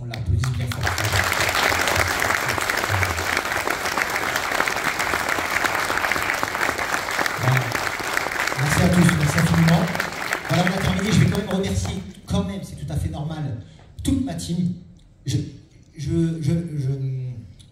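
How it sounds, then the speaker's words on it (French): Audience at a hedgehog enthusiasts' convention claps loudly and steadily for about twelve seconds in a dense burst of applause, which then fades as a voice starts talking. "j'aimerais vraiment que tous, on l'applaudisse bien fort"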